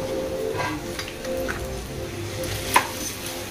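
Red chili powder and black masala sizzle in a hot pan of oil, a steady close crackle with soft stirring scrapes and one sharp utensil tap near the end.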